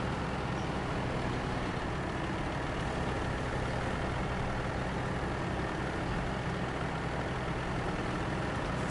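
Truck engine in the SnowRunner video game, a steady dense low rumble that runs unchanged throughout with no talk and no clear revving.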